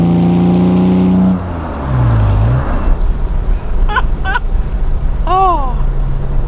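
A classic Aston Martin DB6 with a triple-SU-fed 4.2-litre straight-six is driven, its engine a steady low drone heard from inside the car, with a brief dip and rise in tone and a few faint high chirps over the top.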